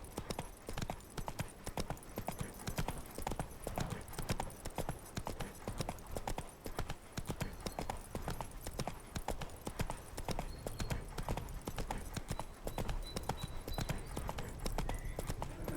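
Steady clip-clop of horse hooves trotting throughout, with dense game background sound underneath.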